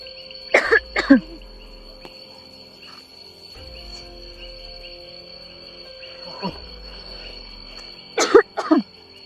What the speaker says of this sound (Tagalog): Inuubo pa naman ako